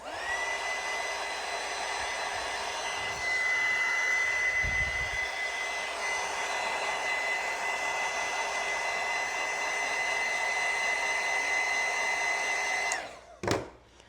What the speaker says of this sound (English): I'm gonna use my heat gun. I'm gonna let it dry.